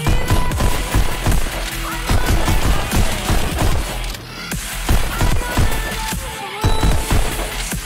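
Rapid pistol fire in the Pistol Whip VR shooter on PC, loud repeated shots cracking in quick bursts over a pulsing backing track, with almost no pause throughout.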